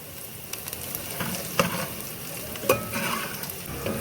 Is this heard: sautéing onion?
yes